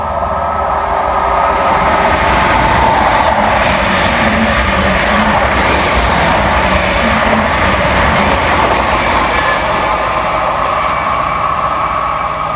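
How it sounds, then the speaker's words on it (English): A Norwich-bound train from London Liverpool Street on the Great Eastern Main Line passes through a station, producing a continuous loud rumble and rail roar with faint rhythmic clatter for several seconds. "Here comes the Norwich train from London Liverpool Street."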